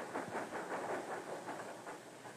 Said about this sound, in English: He hears the train coming into the station